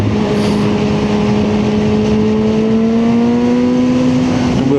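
A car engine drones loudly and continuously from inside the cabin during a dark early-morning commute, its pitch rising slowly as it pulls up through a gear.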